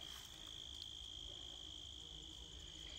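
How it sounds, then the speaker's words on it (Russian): A steady, continuous insect drone runs unbroken through a rural yard, sustained and fairly faint with no voices; the buzzing of bees is the expected source, though the sound is also consistent with crickets. "И пчелы гудут."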